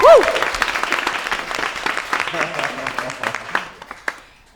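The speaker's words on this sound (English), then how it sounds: "round of applause, Chantal" Live audience bursts into loud, sustained applause and cheering at a stage show, thick clapping filling the room before thinning out near the end.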